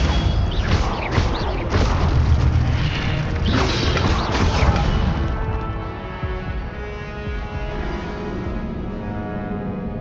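Incendio fire spell cast in the Hogwarts Legacy video game, a loud whooshing burst with crackling, clattering impacts over the first five seconds, then fading into a quieter sustained game ambience.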